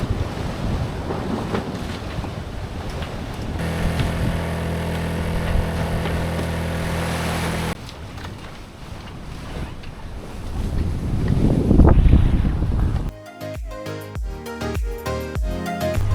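A sailboat moving fast in a 16 to 17 knot breeze, with steady wind roar across the microphone and rushing water and waves along the hull, loud and continuous throughout, with gusts swelling and a tonal hum in places.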